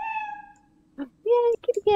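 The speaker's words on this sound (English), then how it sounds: "Oh, hey, a cat." A cat meowing in the video game Lethal Company, a drawn-out mew followed by a few shorter, higher meows, with a voice speaking briefly between them.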